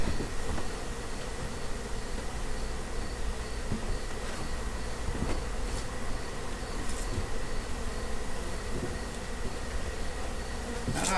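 A dense, steady drone of many honey bees buzzing close by at an open hive, continuous and loud throughout with no voices.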